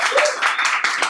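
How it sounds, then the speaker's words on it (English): Audience applause at a comedy show, a dense burst of clapping from a crowd lasting about a second, fairly loud and close. "can I have a massive round of applause for Benji?"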